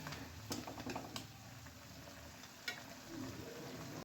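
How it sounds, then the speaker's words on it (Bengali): Spice paste of ground cumin, a little salt and turmeric frying in a pan for a tengra fish curry, a steady low sizzle with a few scraping stirs, close and moderately quiet. "এবার মশলাটা খুব ভালো করে কষিয়ে নিতে হবে।"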